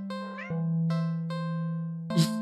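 A cat meows repeatedly, a few clear tonal calls in a steady rhythm, close and fairly loud, ending with a harsher, noisier meow.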